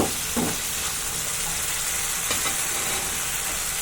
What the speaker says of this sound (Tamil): இதே மாதிரி நீங்களும் கிண்டி விட்டுக்கோங்க